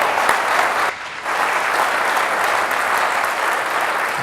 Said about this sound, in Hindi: जोरदार तालियों से खुदा के नाम की जय